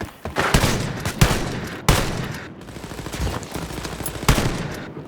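Shotgun blasts in a Wolfenstein shooter, several loud separate booming shots spaced about a second apart, each followed by a decaying rumble under steady game noise.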